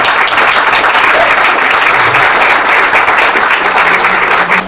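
Audience at a book presentation bursts into loud, sustained applause, a dense close wash of clapping that fills the whole stretch without a break.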